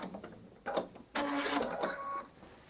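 A sewing machine runs a lock stitch through a quilt block at the edge of its batting, heard in two short, close whirring bursts in a quiet room.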